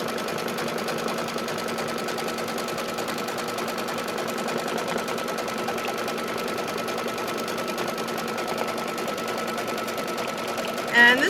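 An embroidery machine stitches a quilted basket in the hoop, its needle hammering in a fast, even, continuous drone close to the microphone throughout.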